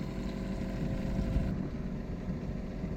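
A steady low rumble of a boat engine running continuously on a reservoir, with wind buffeting the microphone throughout.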